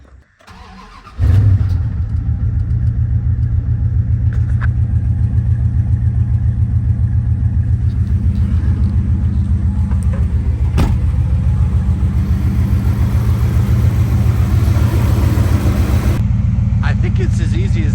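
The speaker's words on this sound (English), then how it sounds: "It seems to be idling a lot better" A Ram truck engine, just fitted with new spark plugs, starts and settles into a steady, loud idle close by, holding an even low rumble throughout.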